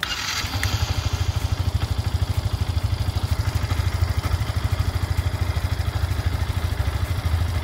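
Yamaha FZ-S 2.0 motorcycle engine running at idle, a steady close, loud low putter with even rapid firing pulses and faint mechanical clatter throughout, no talk.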